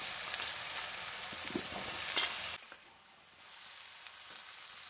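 Vegetables fry in a spiced tomato gravy, giving a bright sizzle with stirring clatter that abruptly drops to a quieter simmer partway through.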